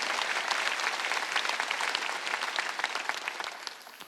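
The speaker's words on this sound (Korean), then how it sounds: "깨달은 사람만 박수 쳐요" A church congregation at a Sunday worship service breaks into dense, steady applause that fills the whole stretch, many hands clapping close together at a fairly even loudness.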